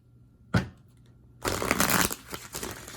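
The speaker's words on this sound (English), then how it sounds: "Let me get a good shuffle in." Tarot cards being shuffled by hand: a single sharp riffle burst near the start, then a longer dense run of brisk card flutters and slaps, close and fairly loud.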